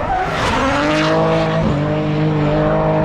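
A drift car at the Brands Hatch Drift Pro Championship sweeps into a corner at high speed, its engine roaring loud and close while the tyres squeal and skid, the sound steady and unbroken throughout.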